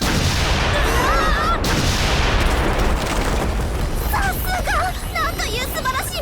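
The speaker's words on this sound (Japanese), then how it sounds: "간신히 그곳에서 탈출하는 데 성공하는데요" A bomb blast in an anime bursts as a loud, sustained roaring rumble, with shrill whistling tones rising through the later part of the din.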